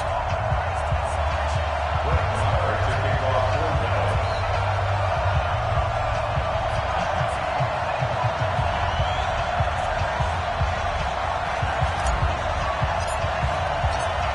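A stadium crowd murmurs and cheers continuously in an NFL video game at a Dallas Cowboys versus Carolina Panthers matchup, a dense steady roar with an announcer talking over it throughout.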